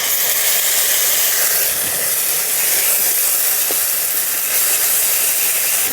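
Ginger and cumin paste hisses and sizzles steadily in hot spice masala, a bright, continuous frying crackle heard close up with no talking.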